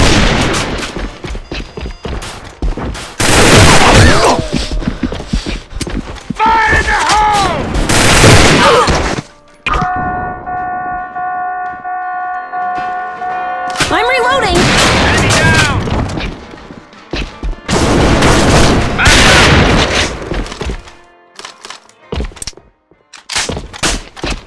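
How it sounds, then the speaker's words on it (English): Gunfire bursts and grenade blasts from the shooter game AVA on an E-Boat map, loud dense volleys in several waves broken by brief quieter gaps, with sustained tonal game sounds in the middle. "Fire in the hole! Fire in the hole! Grenade!"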